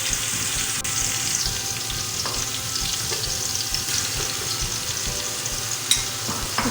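Garlic and ginger fry in a pan over medium heat with a steady, dense sizzle throughout, with occasional scrapes and clinks as the pieces are stirred.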